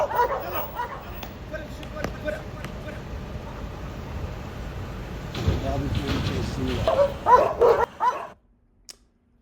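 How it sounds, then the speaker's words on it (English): Several dogs bark and yip in excited bursts near a lighthouse at a stop on a South America cruise. The barking is loudest toward the end, over steady outdoor background noise. "And these dogs are crazy."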